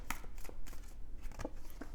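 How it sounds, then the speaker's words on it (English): Tarot cards shuffled and drawn during a reading: a quiet, close patter of soft card slaps and riffles in short uneven bursts, with no clear talk. "Can we get two more cards here?"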